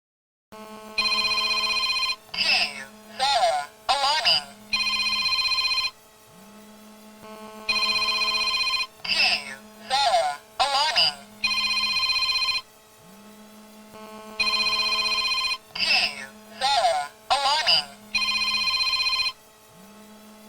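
Repeated electronic telephone ringing made audible through a siren while a SON-99GF dialer calls the next number: sustained bursts broken by rapid warbling pulses, over a steady low hum, loud and close with no talking.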